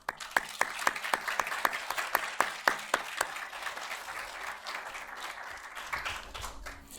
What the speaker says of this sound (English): So a round of applause and thank you for them.